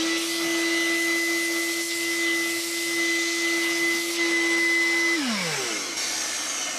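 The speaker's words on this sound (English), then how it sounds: "use your vacuum cleaner to clean all this out here" A vacuum cleaner runs loudly and steadily with a strong whine while cleaning a vehicle interior, then switches off and its motor winds down.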